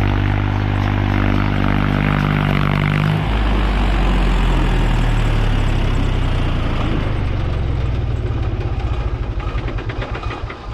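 A Mahindra 265 DI Power+ tractor engine runs loud and near with a steady diesel drone, shifting pitch after about three seconds and then holding an even throb, with no voices.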